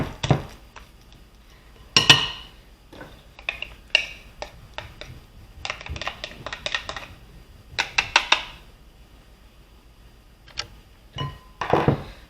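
Bananas being mashed in a bowl for banana bread, giving a series of irregular clinks and scrapes of utensil against the bowl, with scattered bursts and short pauses between strokes, close and fairly quiet.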